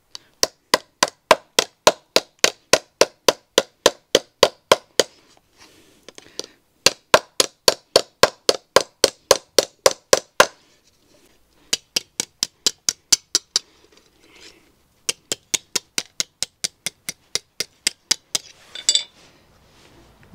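Repeated sharp hand taps on a rusted car body panel being reshaped during perforation rust repair, fast even bursts of a dozen or so metallic knocks each with short pauses between, close and loud, no talk.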